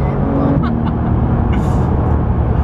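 A Porsche 991 GT3 sports car drives on the road, its engine holding a steady, loud drone from inside the cabin, with a brief tonal rise partway through.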